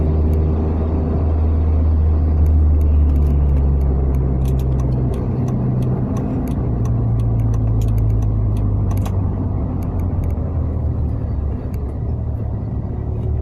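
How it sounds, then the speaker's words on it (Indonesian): A car turning on a road passes close by, a loud steady rumble of engine and tires that swells and then fades slowly, heard alone with no voices over it. "Ada mobil mau belok jadi saya agak baik."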